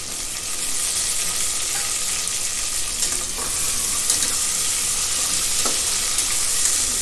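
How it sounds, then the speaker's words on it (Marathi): Potato fries in hot oil with fried onion in a pan for egg biryani, making a loud, continuous hiss of sizzling with a few faint stirring clinks. "आपण जरा वेळ भाजून घेऊ तेलामध्ये"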